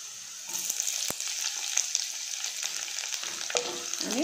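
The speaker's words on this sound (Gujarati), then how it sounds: "થોડીક ડુંગળી બ્રાઉન કલરની થાય એટલે પછી તેની અંદર આપણે કેપ્સિકમ નાખીશું" Capsicum goes into browned onions in a pan for pav bhaji, giving a steady close sizzle and crackle of frying with occasional clinks and scrapes of stirring, no talking.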